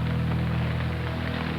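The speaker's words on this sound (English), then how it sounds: "It continues to rain." Steady rain falls on a wooden sailing boat at sea at night, a constant close hiss of drops over a low droning hum, continuous without breaks.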